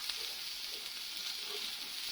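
Seasoned vegetables fry in a pan, producing a soft, even, continuous hiss of sizzling at moderate distance, fairly quiet and unbroken, with no voices.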